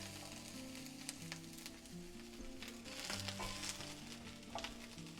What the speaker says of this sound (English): I'll add onion to it and brown the onion just like we did for the sauce.